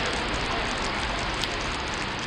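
Rain falling steadily, a dense even hiss of drops that stays constant and close with no voices.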